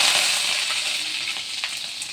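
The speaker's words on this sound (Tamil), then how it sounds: "இப்போ கடுகு போடுறேன்" Mustard seeds and curry leaves sizzle steadily in hot oil for a masala egg dish, a continuous close, bright frying hiss with faint crackles and pops throughout.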